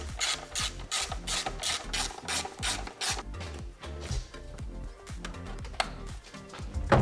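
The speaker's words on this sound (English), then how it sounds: "This was the 10mm socket to get the nuts off." A hand ratchet with a 10mm socket clicks steadily while loosening nuts on a BMW E46 N42/N46 engine, fast rhythmic pawl clicks close up, with no talking over them.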